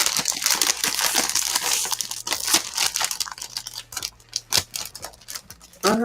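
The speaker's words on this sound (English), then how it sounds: "I'm eating my 11 chips." Potato chips crunch loudly and close in a rapid, irregular stream of crisp bites and crackles, with bag crinkling and no voice.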